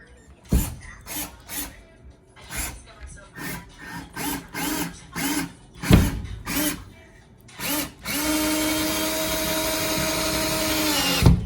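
A power drill driving screws into wood without pilot holes whirs in a series of short bursts with pauses between, then runs in one long steady high-pitched grind near the end.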